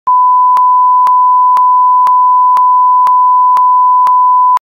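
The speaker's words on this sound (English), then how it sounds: "make sure you beep it out because people hate cussing." A loud, steady censorship beep tone plays continuously for several seconds over a cussing word, with faint regular clicks through it, then cuts off.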